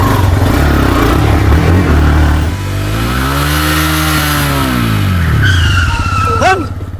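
Motorcycle braking hard and skidding, a loud engine roar dropping in pitch into a long sliding tire noise, ending with a sharp squeal near the end.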